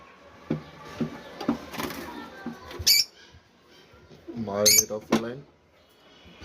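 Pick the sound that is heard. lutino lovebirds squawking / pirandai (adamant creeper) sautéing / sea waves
lutino lovebirds squawking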